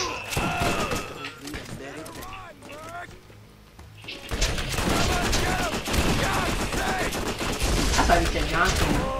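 Shotgun blasts from the Borderlands video game crack out in a dense, rapid string of loud, close shots, with excited talk over the top.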